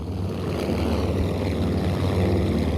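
Engines of a three-engine plane in the Aerofly FS 4 flight simulator game: a steady, loud propeller-engine drone with a low rumble and layered tonal hum, continuous and unchanging throughout.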